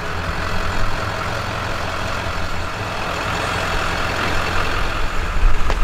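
A pickup truck's engine rumbles low and steady while it maneuvers a travel trailer out of a tight spot, with the loudness rising slightly near the end.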